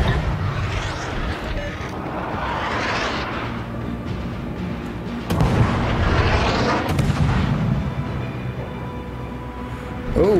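Heavy naval guns on a warship in a video game fire in repeated deep booming salvos, loud and rumbling, with a big blast near the middle followed by another round of rolling thunder.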